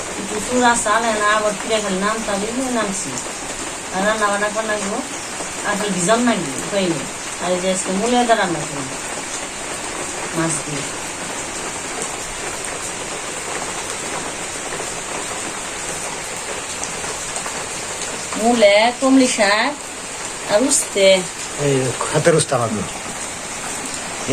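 Monsoon rain falls steadily throughout, a constant close hiss of drops on surfaces, while people talk over it in bursts.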